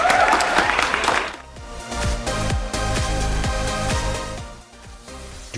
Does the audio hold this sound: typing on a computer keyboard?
no